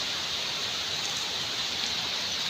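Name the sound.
rain falling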